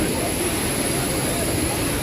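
Inside an Air India Express flight from Hyderabad, a steady, unbroken jet engine drone fills the cabin, with a voice speaking over it.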